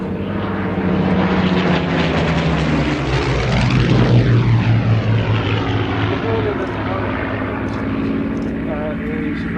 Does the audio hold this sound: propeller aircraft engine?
yes